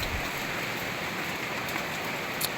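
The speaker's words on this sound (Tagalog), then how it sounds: "Lakas ng ulan guys." Heavy early-morning rain pours in a dense, continuous hiss, steady and loud throughout with no voices.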